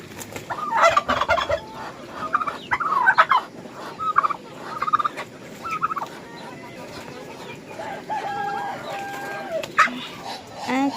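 A domestic laying duck calls on a rainy morning, giving repeated loud, nearby bursts of squawking quacks spread across the whole stretch, with short pauses between the calls.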